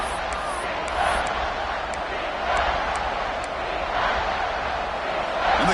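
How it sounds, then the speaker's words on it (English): A stadium crowd in an American football video game roars in a sustained, distant wall of cheering that surges in waves, with a commentator's voice running over it. "And the crowd coming to life here"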